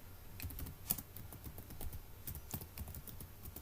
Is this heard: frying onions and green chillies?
no